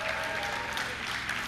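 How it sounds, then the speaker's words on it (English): A live audience at a hurling comedy show in Liberty Hall claps for Davy Fitzgerald in a brief, steady burst, with a faint tonal hum underneath. "Give a round of applause to Davy Fitzgerald."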